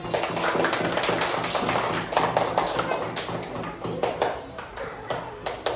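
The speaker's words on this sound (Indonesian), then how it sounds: "Oke, tepuk tangan." A class of elementary school children claps hands in the room, a loud, dense patter of many close claps that starts continuous and thins into uneven bursts, with faint voices mixed in.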